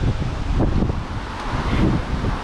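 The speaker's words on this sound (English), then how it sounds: "it is fairly windy" Wind buffets and gusts steadily across a microphone for a couple of seconds on Mount Daisen, a rough, fluttering roar with no voices.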